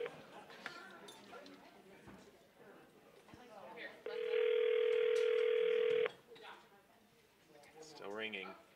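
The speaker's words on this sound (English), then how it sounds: "Still ringing." An outgoing telephone call rings back on a live TV show: a single steady ring tone lasting about two seconds, heard clearly amid presenters talking before and after it.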